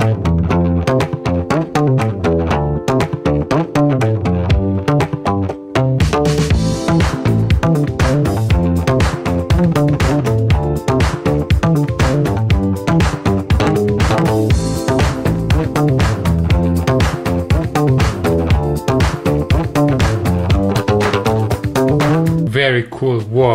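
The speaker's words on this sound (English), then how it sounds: "For example, the Yuku bass has rubber strings." Yuku bass guitar fitted with rubber strings, played as a loud, continuous run of rapid plucked notes with a warm, thumpy tone, driving steadily and rhythmically for over twenty seconds.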